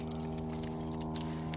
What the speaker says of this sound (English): I'm not used to having to manually unlock to get in your vehicle